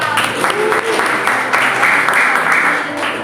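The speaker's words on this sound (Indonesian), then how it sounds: "tepuk tangan buat Eva" A class gives a round of applause for a student named Eva during a teaching-practice lesson, brief clapping heard close with voices talking over it.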